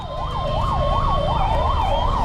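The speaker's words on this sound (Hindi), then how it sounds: "एम्बुलेंस फंस गई है भाई, बंदा आगे नहीं निकाल सकते।" Loud, close ambulance siren cycling in a rapid rising-and-falling wail, with a second siren tone overlapping toward the end, the emergency vehicle jammed in heavy Delhi traffic amid a continuous low engine and road rumble.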